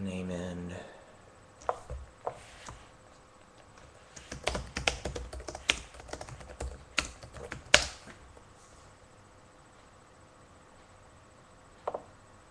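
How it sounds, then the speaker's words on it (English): A name being typed on a computer keyboard, a quick burst of clicking keystrokes in the middle, then a few scattered single taps, near and fairly faint against a quiet room. "So, going down the list of Anderson Silva, let me type his name in."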